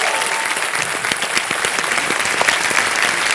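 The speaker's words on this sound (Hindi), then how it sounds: "जोरदार तालियां बज जाए इनके लिए।" A crowd applauds loudly and steadily, a dense wash of many hands clapping for several seconds.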